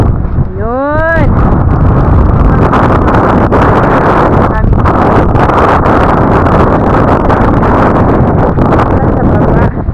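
Strong wind buffets the microphone outdoors on the Suomenlinna sea fortress, a loud continuous roar with gusty thumps, and a voice speaks briefly near the start.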